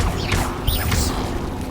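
A Bombarda blasting spell in Hogwarts Legacy: a short, dense burst of crashing, rumbling noise with a whooshing sweep, loud and continuous for under two seconds.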